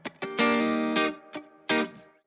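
An electric guitar through a Safari Pedals Planet of the Amps amp simulator pedal preset plays a few short chords and notes with some sustain and distortion, alone and fairly close.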